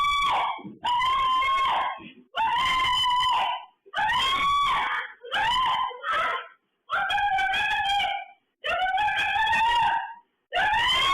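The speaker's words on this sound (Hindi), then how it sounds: "घर के अंदर एक अकेली महिला चिल्ला रही" A lone woman screams inside a house during a robbery, picked up on CCTV: loud, repeated drawn-out shrieks of about a second each, separated by brief gaps, with no other voices.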